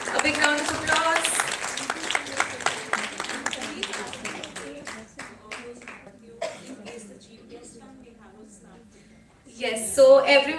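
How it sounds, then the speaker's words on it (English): Clapping from a conference audience at a health conclave, dense at first and thinning into scattered claps, then a short renewed burst at the very end. "A big round of applause."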